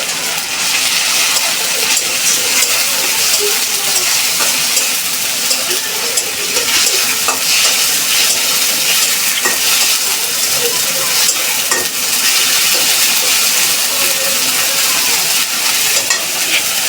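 Garlic sizzles steadily in hot oil in a pan as part of a dried fish (chepa shutki) dish with vine stems, with a constant loud frying hiss and occasional scrapes of stirring throughout.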